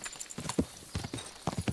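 Horse hooves clip-clop steadily in Kingdom Come: Deliverance 2, a rhythmic run of close, fairly loud hoofbeats with a faint whinny in the mix.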